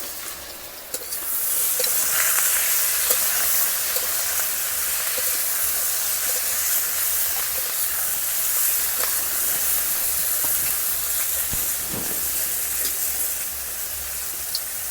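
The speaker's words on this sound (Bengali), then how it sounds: "খুব বেশি কড়া করে ভাজবো না, হালকা করে ভেজে তুলে নেব।" Ingredients for fried rice fry in well-heated oil with a steady, loud, broadband sizzle and hiss that holds throughout, with occasional small pops and stirring clatter.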